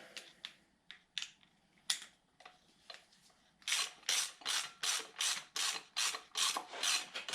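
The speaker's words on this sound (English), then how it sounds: "There's my ratchet." A hand ratchet snugs down water pump bolts on an engine, with scattered clicks at first and then a steady run of quick, loud, close ratcheting strokes.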